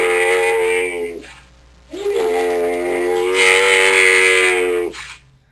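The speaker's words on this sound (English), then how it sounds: "Yeah, it's a real camel." A camel's drawn-out groaning bellow with a reverberant tail, two long strained calls separated by a short pause, loud and close with no talking.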